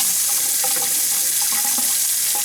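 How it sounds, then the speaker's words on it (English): Running water from a Kohler Malleco touchless kitchen faucet, a steady close hiss of flow into the sink that holds evenly for the whole stretch with no voices. "Now we're ready to test the faucet."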